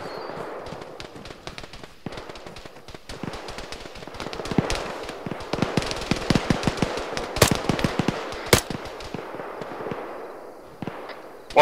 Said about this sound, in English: We're suppressing that machine gun on top of the ridge now